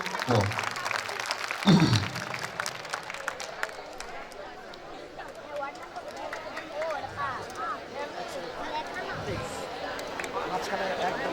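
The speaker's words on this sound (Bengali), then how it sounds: "জনাব মাহবুব আলম মন্টুকে একটা করতালি হয়ে তাকে" An audience at a football tournament ceremony breaks into applause, a burst of clapping and crowd noise that carries on under ongoing talk and chatter, set in a noisy outdoor gathering.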